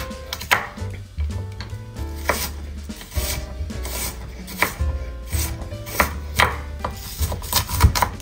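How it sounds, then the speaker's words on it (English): A knife rough-chopping garlic on a cutting board, a series of sharp, close, irregular thuds and scrapes repeating throughout. "I'm gonna just rough chop it."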